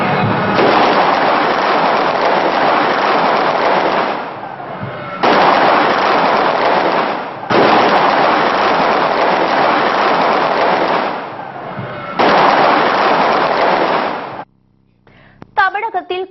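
Firecrackers burst in long, dense rolling volleys at a celebration in Tamil Nadu, loud and continuous with brief gaps between strings, and scattered sharp pops at the end.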